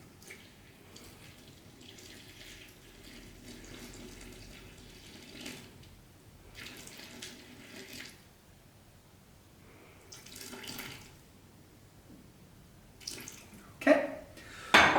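Water running from a tap into a mixing bowl for hand-pulled noodle dough, intermittent gentle streams in several short bursts with quiet gaps, ending in a few louder clatters near the close.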